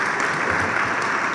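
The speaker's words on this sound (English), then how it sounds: "So let's have a round of applause for that." An audience at a Somerville climate plan release celebration breaks into steady, dense applause, a continuous wash of clapping throughout.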